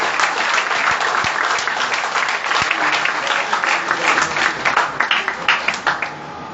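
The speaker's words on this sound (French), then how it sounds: "on applaudit comme ça." An audience at a ceremony naming education ambassadors in Mali claps warmly, a loud, sustained roll of applause that breaks into more distinct individual claps toward the end.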